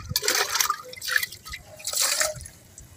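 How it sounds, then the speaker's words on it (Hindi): Water splashing and dripping as a clay matki pot is rinsed, in bursts of pouring and trickling close by, with no talking. "तो दोस्तों हम ये मटकी धो लेते हैं बढ़िया से।"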